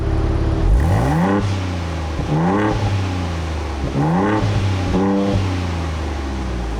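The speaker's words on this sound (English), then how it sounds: "Take a listen in quiet mode." A 2023 Ford Bronco Raptor's dual exhaust in quiet mode revs repeatedly, four rising engine pulls with short dips between, loud and close with a steady idle rumble underneath.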